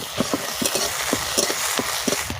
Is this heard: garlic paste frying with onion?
yes